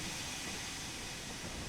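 Freight train passing by in the Train Sim World 2 railway simulator, heard as a steady, dense rushing hiss with low rumble that holds for under two seconds without any talking.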